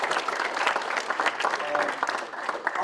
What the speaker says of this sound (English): Maybe you can applaud one more time for him.